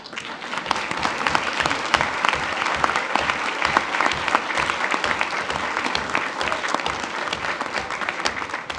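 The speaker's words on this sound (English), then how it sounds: "We would love to give you a round of applause." A school board meeting audience gives a round of applause for Riverton High School supporters, loud, close, crisp clapping from many hands, continuous and even across the whole stretch.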